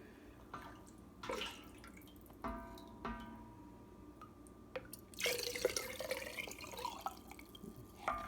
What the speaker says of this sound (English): I'm going to stir it because there is sediment and I want to distribute that evenly.